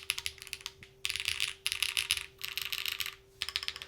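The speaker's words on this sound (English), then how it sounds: "God, I need to get used to typing on this." Fast, crisp clacking from a butterfly-theme tented Alice-layout mechanical keyboard, typed in several bursts of a second or so with short pauses between. The keystrokes are close and fairly quiet, with no voices.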